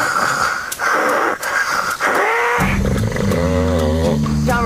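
A voice imitates a person snoring, a close, loud, raspy wheezing inhale followed by a rattling, buzzing snort-like exhale.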